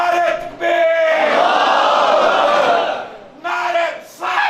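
Large crowd at a religious gathering in Gujrat loudly chanting the Islamic slogan Naara-e-Takbeer, a leader's voice calling and many voices answering in a long roaring unison shout, then the call resuming.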